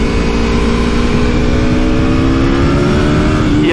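Aprilia Tuono V4 1100 Factory super naked motorcycle, a 2020 model, with its V4 engine revving hard and pulling steadily through bends, a loud sustained rising drone up close with no talking.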